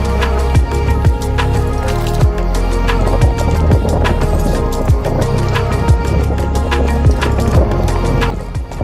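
Horse hooves clip-clopping on a ranch, a steady run of close, loud hoofbeats that keeps a regular rhythm throughout.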